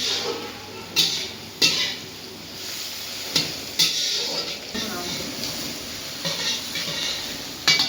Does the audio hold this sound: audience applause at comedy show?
no